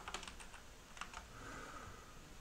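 Fingers tap quickly on a computer keyboard in short clusters of faint clicks over quiet room noise.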